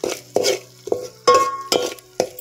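Onion masala being stirred in a cooking pot for a traditional tribal crab curry, a utensil scraping and clanking against the metal in about six short, uneven strokes, close and fairly loud, with no talk.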